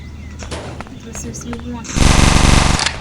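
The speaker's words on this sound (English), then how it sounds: "And then rapid shooting, which basically makes so that you can shoot as much as you want." Rapid automatic gunfire in the Dude Theft Wars video game, played with a mod menu, bursting loudly in the second half after quieter game sounds, while a voice talks over it.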